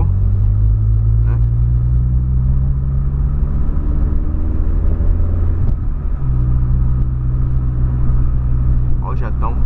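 A Volkswagen Polo fitted with a 4-inch exhaust rumbles loudly and deeply for the whole stretch, its pitch rising and settling as it is revved, with a brief dip partway through.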